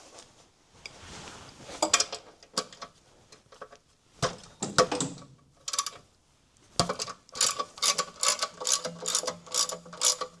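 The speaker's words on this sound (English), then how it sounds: "I'm going to use this ratchet to turn the motor." Socket ratchet clicking in quick bursts as it turns the crank bolt of a Ford 302 V8 in an '86 F-250, near and loud, with pauses between runs of rapid pawl clicks.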